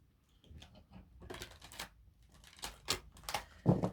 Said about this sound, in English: All right, I'm just going to shuffle a few times.